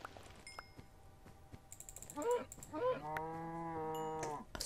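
Cattle in the Minecraft video game give a couple of short moos, then a longer, louder, steady low moo close by, over faint background game ambience with light clicks.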